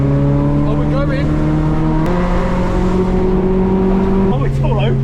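A minivan's small engine revs hard and climbs through the gears, its steady droning pitch rising and dropping with each shift, loud and close throughout.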